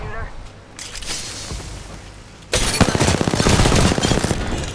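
Gunfire from the CAR SMG in Apex Legends, first scattered shots and then a rapid sustained automatic burst in the second half, loud and close, with game sounds and a voice talking over it.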